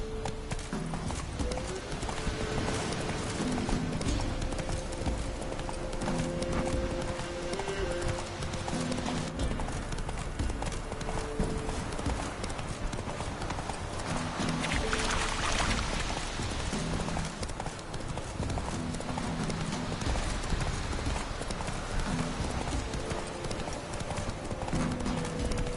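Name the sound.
horse galloping hooves in the video game The Witcher 3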